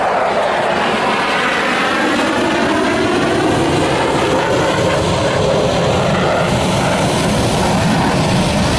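A helicopter close by produces a loud, constant roar of engine and rotor that does not let up.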